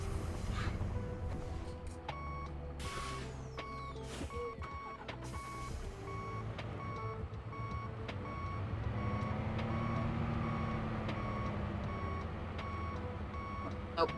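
A truck's reversing alarm beeps in a steady, evenly spaced rhythm while backing a trailer in American Truck Simulator, the engine rumbling low underneath and a voice briefly speaking near the start.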